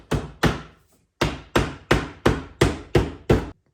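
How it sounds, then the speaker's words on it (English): A rubber hammer taps a quarter glass into a 1929 Ford Model A Tudor, eight taps: two quick blows then a pause and six evenly spaced thuds, each sharp and close with a short decay. "I'll bring my special Japanese rubber hammer"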